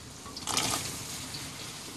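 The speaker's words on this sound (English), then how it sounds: "I'm going to cook some asparagus in boiling water, the traditional way." Asparagus spears drop into a pot of boiling water in a kitchen, giving a short splash and gush over the steady hiss and bubble of the water.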